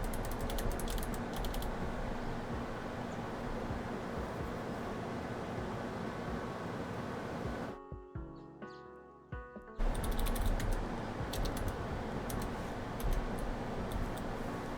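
Fast, steady typing on a computer keyboard, close and fairly quiet, with a brief muffled gap partway through and no one speaking.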